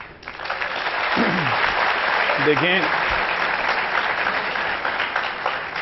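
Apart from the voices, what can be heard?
studio audience applause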